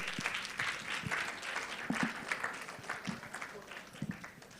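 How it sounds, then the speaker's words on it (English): Audience claps after a speech at a children's day media symposium, moderate clapping mixed with voices and bits of speech over it. "Another round of applause for Mr. Lanre Idowu, Chairman DAME"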